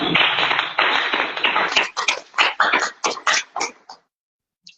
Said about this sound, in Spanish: Un aplauso de Dios.